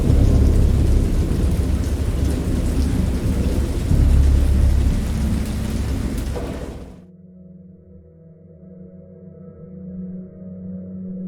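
Heavy rain pours with deep rolling thunder for several seconds, then cuts off abruptly, leaving a faint low hum.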